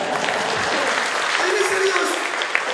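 An audience at a Jakarta program signing ceremony bursts into dense, steady applause, loud and continuous, with some voices faintly under it.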